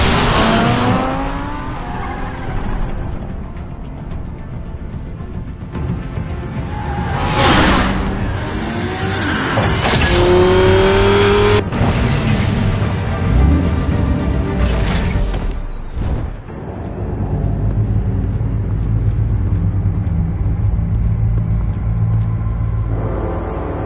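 Car driving in Batman: The Telltale Series, a loud continuous engine roar with tire squeal and skidding as the vehicle speeds and swerves, punctuated by sharp impacts, with no talk.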